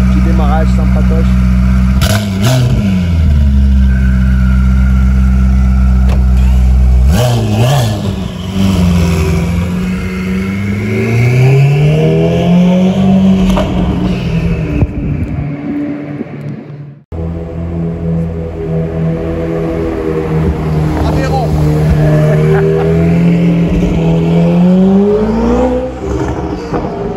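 A sports car in Monaco launches with a loud engine roar, climbing and dropping through gear changes as it pulls away, close and powerful throughout, with voices talking over it.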